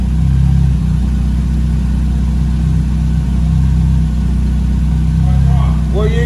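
A Ford Fiesta fitted with a Focus RS turbo engine runs with a loud, deep, steady idle-like drone and slight swells in pitch, close up, with people talking over it.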